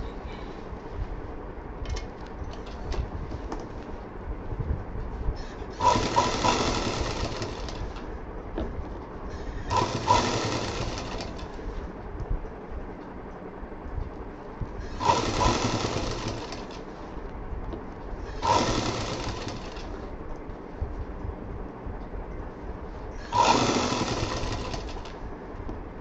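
A sewing machine stitches fabric for a shiny bag in five separate short bursts of rapid whirring, each lasting about a second, with quiet pauses between them.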